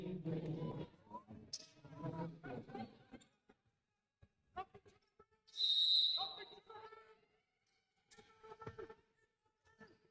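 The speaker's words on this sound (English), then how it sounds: "Quick whistle stopping play." A referee's whistle blows one sharp, shrill blast midway through a women's college basketball game between the Conestoga Condors and Niagara Thunder Wolves, with a commentator talking before and after and faint court sounds around it.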